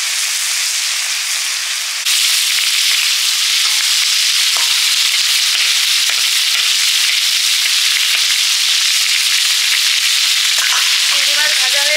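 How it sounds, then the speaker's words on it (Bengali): Shrimp fry in a hot pan with a loud, dense, continuous sizzle and crackle that jumps in intensity after a couple of seconds, then keeps up steadily with occasional pops and stirring scrapes. "চিংড়ি মাছ ভাজা হয়ে গেছে"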